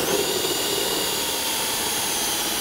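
A power drill bores out holes in a FATMAX airbrush kit, a steady, loud, continuous whine running close and unbroken throughout, with no talking.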